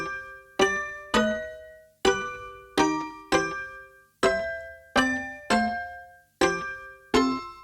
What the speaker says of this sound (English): we're going to use my Trond pizzicato strings as well as Hainbach's Mikkelsen toy piano